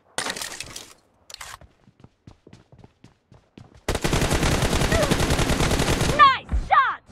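Gunfire in the mobile game BGMI during a 1v1 team-deathmatch tournament match: scattered sharp shots give way to a dense, loud automatic burst lasting about two seconds, then a few final cracks.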